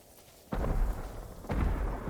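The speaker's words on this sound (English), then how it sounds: "More fireworks! On all sides!" Fireworks burst in the Ghost of Tsushima video game, two loud deep booms about a second apart, each followed by a rumbling crackle over a steady low background.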